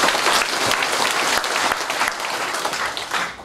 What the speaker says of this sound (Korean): 박수로 격려해 주십시오